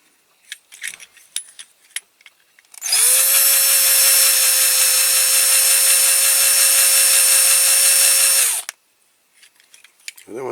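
A power drill runs steadily for about six seconds on a small metal part from a Matchbox King Size Aveling-Barford road roller, its high whine framed by light clicks and handling noises before and after.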